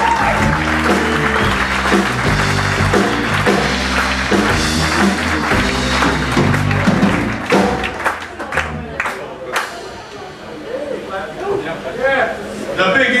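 Boogie-woogie piano music with steady chords fades out into a live Paris crowd clapping and applauding, with a voice speaking over the noise.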